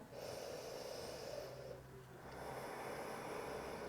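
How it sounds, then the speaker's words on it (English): A single slow, deep breath during an intermediate yoga flow, faint and close, with an airy inhale that pauses briefly before a longer exhale. "one more deep breath."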